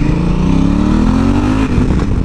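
A loud Africa Twin motorcycle engine running steadily with a rising, thin whistling tone riding above the rumble, no talking.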